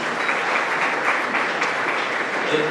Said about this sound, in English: let's get a round of applause for Hunter for joining the good guys